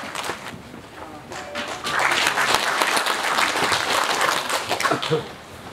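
An audience claps at the launch ceremony of a political centenary committee in Chungbuk, Korea. The sound starts scattered, then swells into dense sustained applause that fades near the end, with a faint voice underneath.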